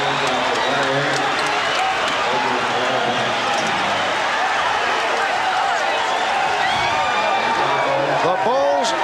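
A large arena crowd at the Forum in a dense, steady roar after the Chicago Bulls win the 1991 NBA championship, with a commentator talking over it.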